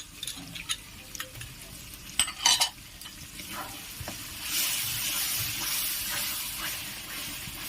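Masala with sour yogurt being stir-fried for mixed vegetables, a few scattered scraping strokes early on, then a soft continuous sizzle that swells and holds steady, quiet and close.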